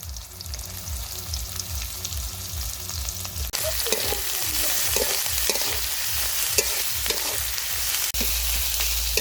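Dried Bombay duck (loitta shutki) frying in a pan with onion and green chilies, a loud steady sizzle broken by repeated scraping stir strokes, close and with no talking.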